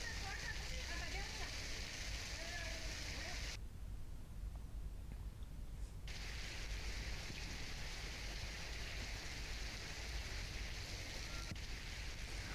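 Heavy rain falling in a city in Rajasthan, India, leaving water standing in the streets, a steady broadband wash that runs the whole time with a brief quieter break midway, heard under news narration.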